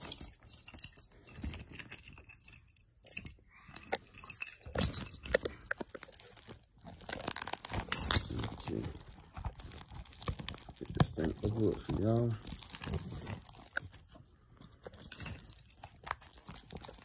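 Plastic wrap being torn and crinkled off a Destroy All Humans 2 Reprobed game case, with close, irregular crackles and rustles that come and go in spurts, alongside a person talking.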